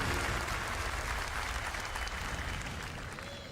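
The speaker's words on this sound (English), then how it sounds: "I like how we can hear the crowd a bit as well." Crowd noise from a live audience at the Summer Game Fest show, a steady broadband wash of cheering and applause that stays loud and constant, then eases slightly toward the end.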